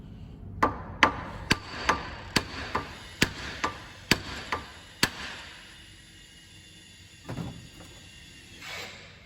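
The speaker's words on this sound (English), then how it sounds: "just a few sharp hits on the edge. And using the copper hammer doesn't damage it" A series of about a dozen sharp metallic copper-hammer knocks on the edge of a Daihatsu Fourtrak driveshaft in quick succession, fairly close, then two softer thuds after a pause.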